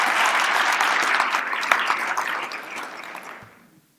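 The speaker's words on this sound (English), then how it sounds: "please help those people know that they're appreciated by giving them a round of applause" Audience applause for chamber of commerce members fills a hall with dense, loud clapping that gradually thins and fades out near the end.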